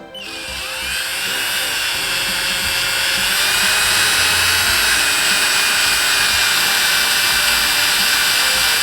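A steady high-pitched electric drill whine runs continuously and loudly throughout, with no talking, its pitch holding nearly constant as it spins, lapping an engine valve against its seat.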